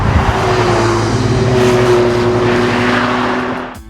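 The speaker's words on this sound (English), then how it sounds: "it does still have that trademark Porsche growl" A Porsche 911 flat-six engine growls loudly and steadily up close, a deep droning tone that holds and then fades away at the end.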